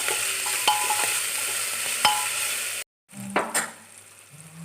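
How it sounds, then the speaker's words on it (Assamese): Vegetables cooking in a pan over a low gas flame for pulao, giving a steady soft sizzle with a few clinks of a spoon, a brief cut of silence, then quieter sizzling with scraping. "এতিয়া মই গেছৰ ফ্লেমটো ল' কৰি এইখিনি ভালদৰে সিজিবলৈ দিম"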